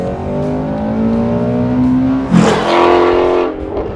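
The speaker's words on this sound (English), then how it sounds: "This engine is so much more exciting." A sports car engine revs hard, its pitch climbing and dropping with a sharp blip midway, loud and close.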